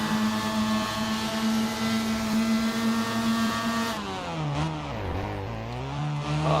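Race car engine from Assetto Corsa, a Mazda Formula Mazda or MX5 at Autopolis, droning steadily then dipping and rising in pitch as the car slides and locks up, loud and alone without talk.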